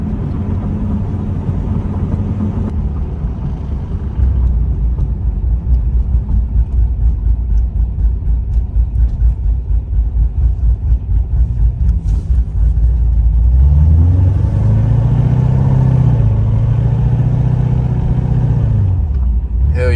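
A cammed Chevrolet Corvette C7 engine while driving on a highway: a loud, close, low rumbling idle with a choppy pulse, swelling into a deeper rev near the end, with no talking.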